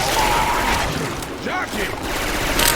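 Syphon Filter weapon sounds swapped into Left 4 Dead 2, rapid loud gunfire bursts in a chaotic game scene with voices mixed in.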